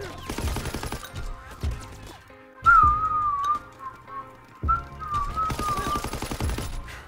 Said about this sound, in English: Every time this song comes on, I start whistling.